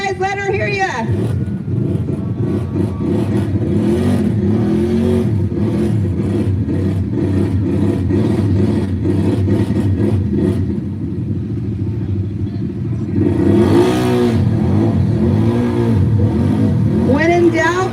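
ATV engine revving hard and continuously during a pit competition at a snowmobile and ATV event, a loud sustained roar with rising throttle bursts near the end, while a crowd and an announcer talk over it.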